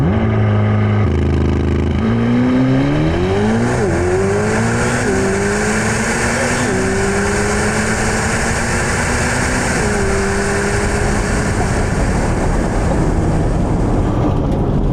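A 1064-horsepower Corvette C8 ZR1 launching hard at a no-prep drag event, its engine roaring loud and close with rising pitch through several rapid upshifts, then sustaining a strong high-revving pull.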